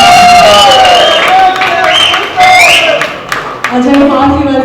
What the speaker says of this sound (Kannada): ದಯವಿಟ್ಟು ಜೋರಾದ ಚಪ್ಪಾಳೆಯೊಂದಿಗೆ ಸ್ವಾಗತಿಸಿ one and only Ajay Prithvi